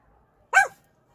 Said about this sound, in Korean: 저희 강아지가 짖으면 제가 안아서 창밖을 보여주다 보니까 이게 습관이 돼갖고 이렇게 가끔가다 짖어요